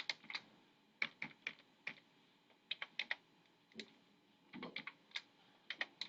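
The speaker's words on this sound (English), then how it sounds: "we can type in the equation exactly as we saw it" Fingers tap out an equation on a computer keyboard, irregular clusters of light, crisp key clicks with short gaps between them, close and quiet in an otherwise still room.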